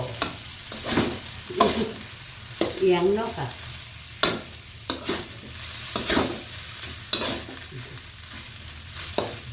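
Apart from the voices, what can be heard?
stir-frying shrimp fried rice in a pan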